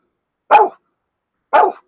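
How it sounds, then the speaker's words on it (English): A single dog named Keeper barks twice indoors, two short, loud, close barks separated by about a second of silence. "Don't you bark at me."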